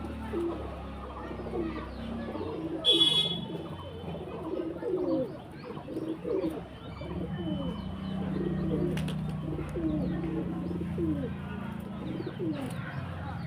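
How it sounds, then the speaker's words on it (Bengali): Pigeons cooing at a bird market, many low coos overlapping at close to mid range with faint chirps and a brief flutter of wings, steady and moderately quiet. "খুব সুন্দর সুন্দর কোয়ালিটির পায়রা আছে এখানে"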